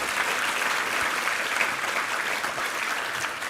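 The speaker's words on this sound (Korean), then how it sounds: "우리 하나님께 감사와 영광의 박수 올려드리겠습니다" A church congregation at a Thanksgiving service applauds steadily, a dense, even wash of many hands clapping that fills the room without letting up, close and strong.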